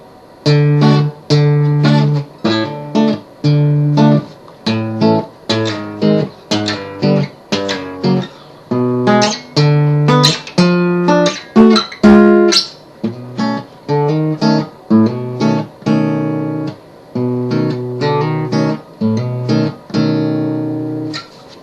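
An electric guitar plays a riff from a song, plucked notes and chords in a steady rhythm, each struck clearly, alone with no talking.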